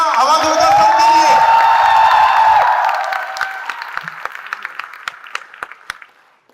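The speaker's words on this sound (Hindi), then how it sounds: "एक बार जोरदार तालियां आवाज होकर सबके लिए" Large seminar audience for civil services aspirants bursting into loud applause and cheering, a dense roar with whoops and a tonal voice at first, fading into scattered individual claps.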